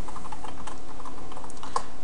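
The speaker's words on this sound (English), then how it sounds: "You're going to go ahead and type in localhost" Steady run of rapid computer keyboard keystrokes typing a web address, close and continuous with irregular clicks.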